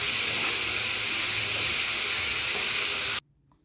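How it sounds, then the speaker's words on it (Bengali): Chopped cabbage, carrot and onion stir-frying in a hot pan for veg momo filling, a steady bright sizzle with faint stirring scrapes, cutting off abruptly near the end. "এবার বাঁধাকপিটা দিয়ে ভালো করে নাড়ব"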